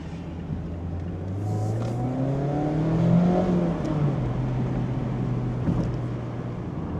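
A Mazda Miata engine revs up and falls as it downshifts before a corner, rising pitch sweeps from inside the car, steady engine drone throughout.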